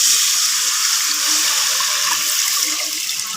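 Water pouring steadily into a cooking pot for hotel-style khichdi made with basmati rice and onions, a continuous bright splashing rush that stays close and loud throughout without any talk.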